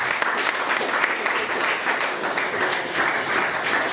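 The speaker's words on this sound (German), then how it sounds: "bitte da auch einen Applaus für das tolle Team," Audience applause for the team at an international evening event, dense, even clapping from a sizeable crowd, loud and sustained across the whole stretch with no talk over it.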